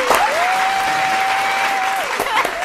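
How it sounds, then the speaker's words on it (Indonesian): Audience clapping fills a room, steady and fairly loud, with a sustained sung or whistled tone held over it for most of the stretch. "Tepuk tangan, tepuk tangan."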